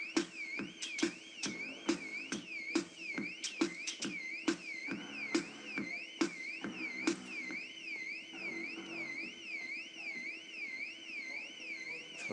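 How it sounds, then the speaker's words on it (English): A car alarm cycles through its patterns, first a rapid string of sharp repeated chirps, then a steady wailing siren that rises and falls, heard at moderate distance and fairly faint. "Sounds like a car alarm."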